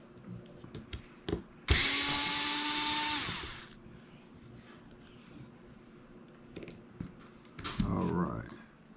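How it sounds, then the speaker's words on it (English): Cordless power drill driving screws on a Traxxas Slash 4x4 RC truck, one loud close whirring burst of nearly two seconds with small clicks and handling noises around it, and someone talking. "You gotta get one of these drills, man. These things are a lifesaver."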